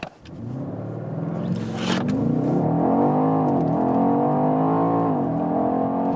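A performance SUV accelerates hard from rest toward 65 mph, its engine note rising loud and close, then holding a strong steady roar as speed builds, with no voices over it.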